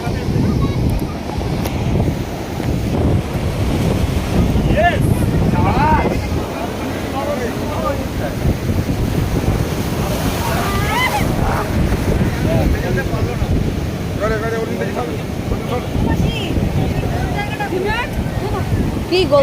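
Surf of the incoming tide rolling in at an estuary mouth at Digha, a steady roaring wash under gusty wind noise on the microphone, with people talking over it throughout.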